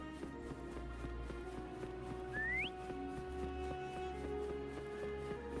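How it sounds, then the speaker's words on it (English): A rising whistle in the video game Wuthering Waves, blown to call over a companion creature, rings out once near the middle over steady game music and ambience, with faint hoofbeat-like steps underneath. "Try whistling."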